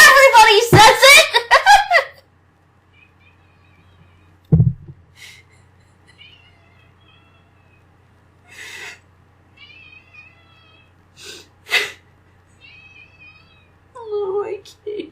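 A cat meows in a few short, whiny calls spread across the stretch, close by, with a person talking at the start and brief sounds in between.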